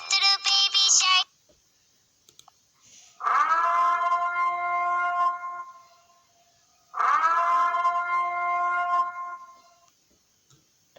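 A phone notification tone imitating the Siren Head siren: two long, wailing horn-like blasts separated by silence, preceded by a brief bright burst of electronic sound.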